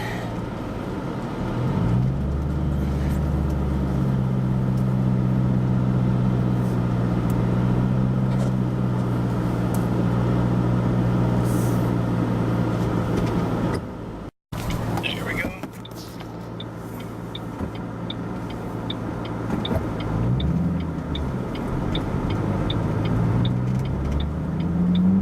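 A car pulls away on a manual clutch after storm damage, its engine rumbling steadily close by and shifting in pitch as it revs and settles, with a brief dropout partway through.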